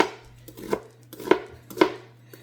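A knife dices an onion on a cutting board. It makes three or four distinct, close chopping knocks spaced about half a second apart against a quiet background.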